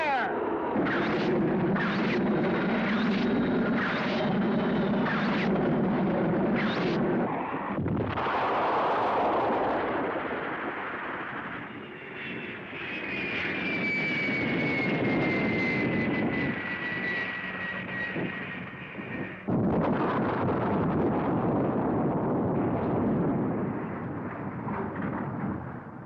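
Film sound effects from the 1965 Gamera monster movie: an airplane carrying atomic weapons roars overhead amid rapid, repeated blasts, then a massive atomic bomb explosion hits the ground with sustained loud rumbling, a rising jet whine threading through the din.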